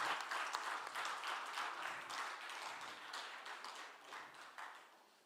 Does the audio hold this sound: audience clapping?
yes